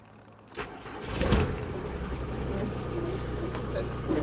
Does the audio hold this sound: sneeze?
no